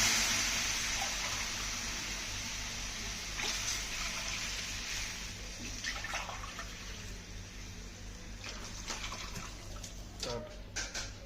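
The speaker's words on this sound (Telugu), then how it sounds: "గ్లాస్కి 3 గ్లాసులు నీళ్ళు వేస్తున్నాను." Water from a glass is poured into a pan of fried tempering for wheat rava upma, a steady splashing rush that holds for several seconds and then tapers off, with no voices.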